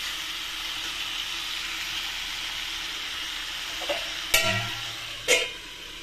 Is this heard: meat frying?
yes